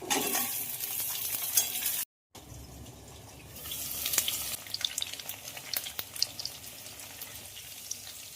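Potato and taro frying together with onion, cumin and bay leaves in a pan, a steady crackling sizzle broken by scraping stirs and a brief dropout, with no voices.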